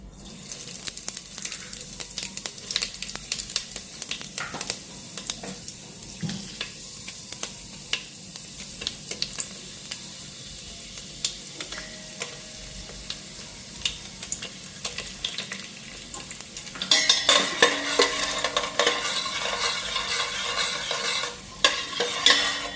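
Panch phoron spices sizzle and crackle in hot oil under repeated stirring and scraping, steady and close, with a louder burst of frying toward the end.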